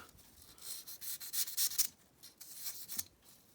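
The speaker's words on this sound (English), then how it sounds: "sometimes I can just scrape it and then cut it to my desired length" Soft material is scraped by hand to shape a cheap homemade iron ore load, giving a close, dry rasping rub in uneven bursts with no voices.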